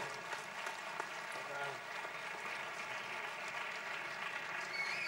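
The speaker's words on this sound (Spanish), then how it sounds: "Pues un aplauso para Jesús Sánchez." An audience at the San Sebastián Gastronomika 2014 culinary congress applauds chef Jesús Sánchez with steady, continuous clapping at moderate volume, heard from some distance in a large hall.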